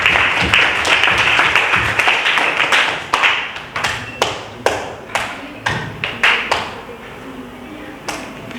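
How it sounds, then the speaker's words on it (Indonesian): A classroom of students claps, starting as a dense close burst and thinning into scattered individual claps and taps that fade out by the end. "Beri tepuk tangan."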